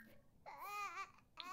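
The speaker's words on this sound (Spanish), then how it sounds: "El que está llorando como si no hubiera un mañana" A baby character in The Sims 4 (Strangerville) babbles and wails in short expressive bursts, a close, fairly loud synthetic infant voice with a brief pause before another cry.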